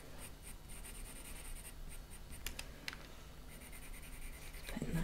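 Colored pencil strokes scratch lightly across paper while shading soft fur, a quiet, steady rasp with short bursts of quicker scribbling and no talk.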